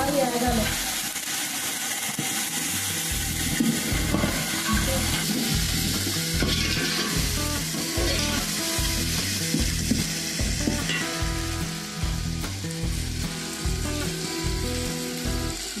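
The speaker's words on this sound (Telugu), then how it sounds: "కొత్తిమీర ఇది బాగా వేగాలి." Coriander leaves frying in a hot pan, a loud close sizzle with rhythmic stirring scrapes repeating steadily throughout, no talking.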